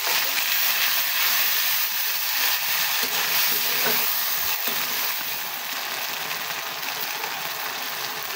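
Spice paste of ginger and garlic with cardamom and cinnamon hisses and sizzles loudly in a pan as water is added, a dense steady steam hiss throughout that eases slightly toward the end.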